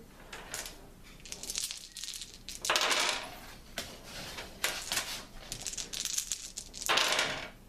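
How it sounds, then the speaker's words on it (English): Several dice tumble and clatter across a hard surface in the tabletop game Threeboot, four dice rolled in repeated bursts of rattling clicks, close and fairly loud with short pauses between throws. "she gets to roll 4 dice 4 times to try and get those 6s"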